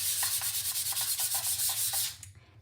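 Sanding a wooden decor tray by hand with 220-grit sandpaper, a steady, rapid back-and-forth rasp in even strokes, close and loud, stopping abruptly near the end.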